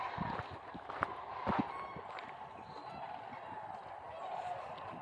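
A large flock of cranes calls over a field at Wheeler National Wildlife Refuge, a faint, distant, continuous wash of overlapping honking cries with a few slightly louder calls standing out.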